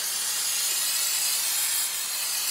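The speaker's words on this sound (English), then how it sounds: "I'll give that a little spritz with brake cleaner just to clean it off." Brake cleaner is sprayed from an aerosol can onto the front brake parts of a 2003 Toyota Corolla, one steady, loud, close hiss lasting a couple of seconds.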